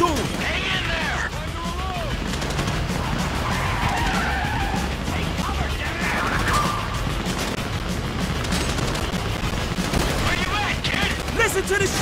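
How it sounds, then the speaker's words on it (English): Gunfire in the video game Grand Theft Auto V during a heist shootout, dense bursts and shots mixed with vehicle skids and crash noises, continuous and loud, with voices talking over the action. "You hear that gunfire?"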